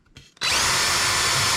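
A power drill whirs up sharply after a brief scrape and then bores steadily through wood while fitting a mortice sashlock, loud and continuous.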